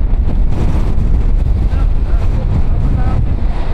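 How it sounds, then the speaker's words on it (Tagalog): Loud, strong wind roars against the microphone over the heavy rush of ocean waves on a coastal motorcycle ride in San Nicolas, Pangasinan, a constant, dense wash of noise. "ang lakas mo ng hangin dito. Tsaka malakas yung alon. Malakas yung alon ng karagatan."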